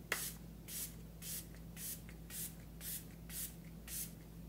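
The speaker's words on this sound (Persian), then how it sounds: "بعد میکسش کنید بعد اسپری کنید. خب حالا من الان میزنم شما ببینید." Two-phase makeup setting spray misted in a rhythmic series of about eight short, close hissing bursts, evenly spaced, with no voices.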